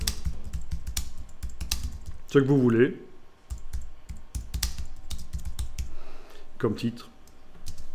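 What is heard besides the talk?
typing on a computer keyboard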